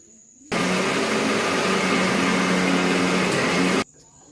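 A mixer grinder grinding sesame seeds starts abruptly and runs at a loud, steady whine for about three seconds before cutting off.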